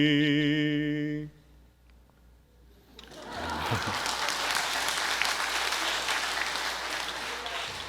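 A church congregation applauding during a sermon, a sustained wash of clapping that follows a sung phrase and continues steadily, with a few voices mixed in.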